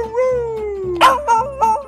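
A beagle howls in a long wavering cry that slides downward, then breaks into short rising yelps and bays, close and loud with no voices over it.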